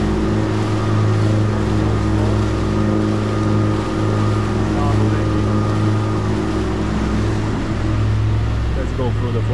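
Diesel engines of a Lagoon 450 F catamaran run hard near full speed, a loud steady droning hum with exhaust burble and water rushing beneath, continuous throughout.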